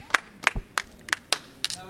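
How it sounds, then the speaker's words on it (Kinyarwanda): About six sharp hand claps come close together in a fairly even rhythm, each one loud and crisp, with a faint voice briefly in the background. "Amashyi"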